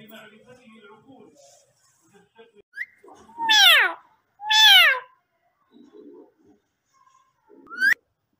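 A talkative parrot mimics a cat's meow, giving two loud, rising-falling meows in a row followed by a short squeaky call, with a person speaking softly beforehand and between calls.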